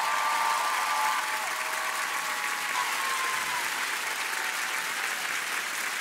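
A studio audience at The Voice Kids France 2019 semi-final applauds a contestant's father, a dense, steady roar of clapping that stays loud throughout and eases only slightly toward the end.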